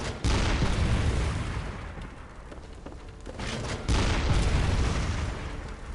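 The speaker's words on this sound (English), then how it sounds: "Apparently this does more than the regular cannon." Heavy cannon blasts from a hunter weapon in Bloodborne, two loud booming reports a few seconds apart, each followed by a rumbling decay, with no voices.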